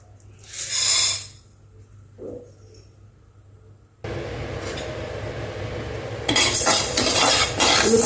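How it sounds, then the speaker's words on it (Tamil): Urad dal roasting in a pan with curry leaves and dried red chillies, first a few isolated scrapes, then a sudden steady sizzle with stirring, growing louder near the end. "உளுத்தம் பருப்பை நல்லா வாசம் வர வரைக்கும் வறுத்து எடுக்கணும்."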